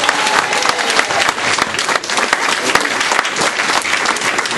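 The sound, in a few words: crowd applause for the police team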